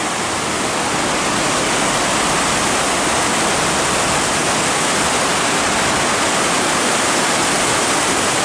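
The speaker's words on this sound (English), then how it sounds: "that is some really bright, clear flowing water" Steady, full rush of the clear-flowing Rio Agualate near Grecia, Costa Rica, a dense and constant broadband wash of moving water heard up close, with no voices.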